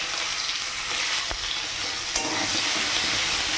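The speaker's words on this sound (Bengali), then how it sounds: "পেঁয়াজটাকে একটু লাল লাল করে ভেজে নেব।" Onions frying in hot oil with cumin seeds for a fish curry, a steady close sizzle with a couple of brief stirring clacks, no voices.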